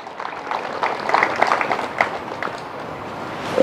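Church congregation applause, with scattered clapping from a group that swells in the middle and fades toward the end, moderately loud and without talk.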